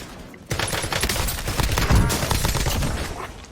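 Rapid gunfire in Call of Duty Warzone, a dense sustained burst of loud automatic shots starting abruptly and continuing without pause.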